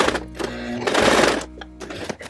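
Sewing machine stitching fabric pieces for the feet of an Animal Crossing character plush, running in short stop-and-go bursts of rapid mechanical whirring, close and fairly loud with no talking.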